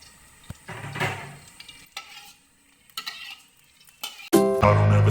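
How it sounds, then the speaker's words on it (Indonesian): Blended spice paste for Bangka-style fish gulai goes into hot cooking oil in a pan. Scattered light stirring and clinks come first, then a loud, sudden sizzle bursts up and keeps going. "Kita menuangkan bumbu yang di blender tadi ya."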